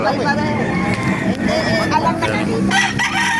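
Roosters crow amid a busy crowd at a chicken market in Baliuag, Bulacan, with overlapping calls and chatter from people nearby.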